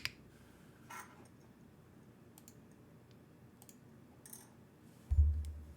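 Keystrokes on a mechanical keyboard fitted with BSUN BCP and Kailh spring switches, heard as sparse, soft clicks and small quick clusters of taps, with a duller thump near the end.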